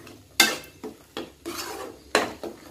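A spoon scrapes and clatters around a pan as gravy for stuffed brinjal is stirred, in five or six distinct strokes over a faint, low sizzle.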